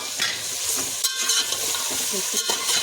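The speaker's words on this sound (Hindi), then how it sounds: "प्याज जब आपका अच्छा गोल्डन हो जाए तब कीमा डालिए।" Onions and minced meat fry in a pot with cloves and cardamom, giving a close, steady sizzle broken by scraping stirs and soft clanks of a spoon against the metal.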